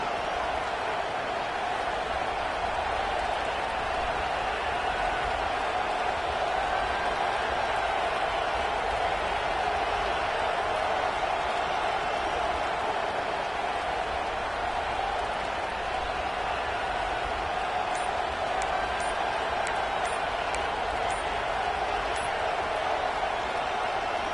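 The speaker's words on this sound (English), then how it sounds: "This crowd, full throat, splitting the eardrums and letting them know it's going to be a long day" Loud, sustained roar of a stadium crowd at an NC State versus Arkansas football game, a dense continuous wall of cheering that holds steady throughout with no pauses.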